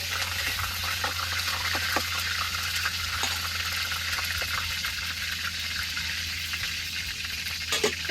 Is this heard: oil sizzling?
yes